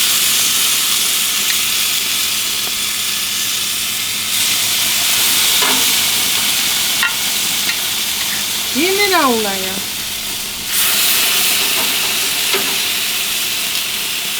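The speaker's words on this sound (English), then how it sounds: "Just going to put this little chicken out here. Look at that sizzle." Chicken sizzles steadily on a hot grill throughout, with a few clanks and a brief squeak as it goes onto the hot surface, and a voice speaking briefly.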